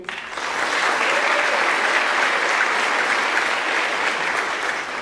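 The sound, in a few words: audience applause at a senior awards night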